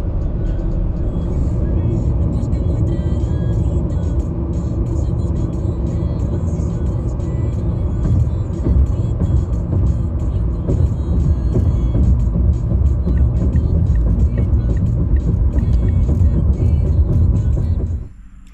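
Car driving along a road, a steady low engine and road rumble throughout, close and continuous, with someone talking over it.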